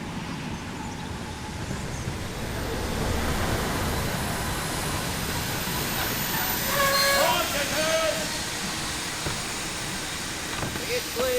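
A railway train rolls in at a station, a long low rumble with a brief horn-like tone partway through, and voices faint beneath the noise.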